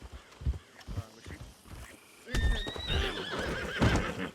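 A horse in Red Dead Redemption 2 lets out a loud, shrill whinny with hooves clip-clopping underneath. It follows a stretch of softer in-game murmuring and footfalls, and the scene sounds busy and close.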